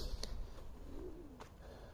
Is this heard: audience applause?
no